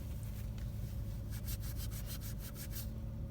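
Shoes with a stubborn stain being scrubbed, a steady, close brushing rub that speeds into a quick rhythmic burst of strokes near the end, with no talking.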